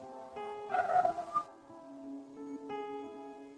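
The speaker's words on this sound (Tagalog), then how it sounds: "Ingay ng mga aso." Dogs bark and yip in a short, busy burst near the start, then fade out against a steady tonal backdrop.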